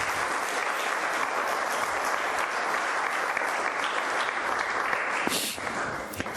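Congregation applause in a Spanish-language church service, a dense continuous clapping that holds steady for several seconds with a brief louder burst near the end.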